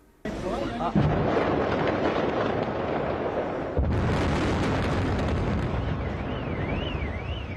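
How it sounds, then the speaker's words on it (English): A massive controlled demolition blast: a sudden roaring explosion followed by a long, loud rumble of collapsing debris, renewed by a second surge midway. "This is the moment the building came down in a controlled explosion."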